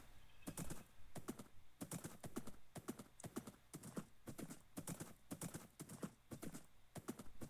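A ridden horse's hooves clip-clop in a steady, even rhythm throughout, crisp and close with nothing else competing.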